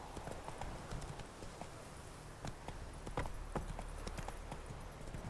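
Horse hooves clip-clop steadily while riding in The Witcher 3, a regular walking gait of sharp hoof strikes over a low ambient bed, moderately close and fairly quiet, with no one talking.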